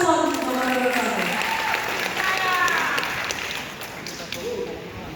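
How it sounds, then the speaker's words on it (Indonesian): Audience applause for candidate pair number 1 at a regency election debate in Lembata, with voices mixed in over the clapping. "Tepuk tangan untuk paslon nomor 1."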